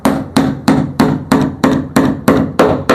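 Nine steady hammer blows drive a large 13x15 nail into a peroba wood frame of a small four-drum boat, each strike sharp and close, evenly spaced about a third of a second apart with short ringing decay, no talk.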